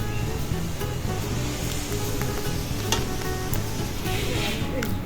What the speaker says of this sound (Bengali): পাতাকপি দিয়ে এখন একটু নেড়ে চেড়ে নিচ্ছি